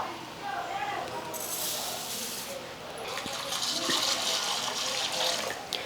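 Water splashes and swirls in a bowl as thick poha (flattened rice) is washed, a steady close-up sloshing with a brighter rush of water partway through.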